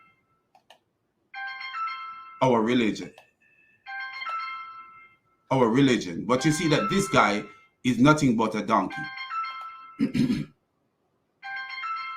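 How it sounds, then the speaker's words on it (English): A phone's electronic ringtone chimes in repeated short bursts in the background, alternating with someone talking loudly over and between the rings. "Sorry for the phone ringing in the back"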